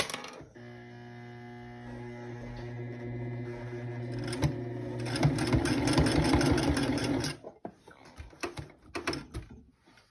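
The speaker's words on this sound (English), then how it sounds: "Then we're going to sew it down here across the bottom and back up." A sewing machine stitches across the bottom of a fabric face mask, its motor humming steadily with a rapid needle clatter that swells loud midway, then stops, leaving a few quiet handling clicks.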